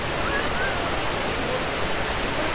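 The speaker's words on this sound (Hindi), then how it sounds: "झरना वहाँ से बहता बहता बहता यहाँ" A mountain waterfall in peak monsoon season rushes steadily near the Kedarnath trek, a dense, constant roar of falling water with no breaks and no voices.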